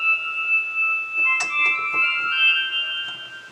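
A bright synth preset called Highlight from the Octane plugin plays a MIDI pattern from a Cymatics Python pack, giving sustained shimmering tones with a few soft percussive clicks, moderately loud and with no talking.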